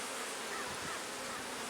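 Honeybees of a newly caught swarm colony buzz during a hive check on day six, a steady, dense, close drone with no talk.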